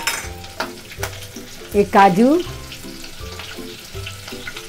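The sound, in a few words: green chilli and whole spices sizzling in hot oil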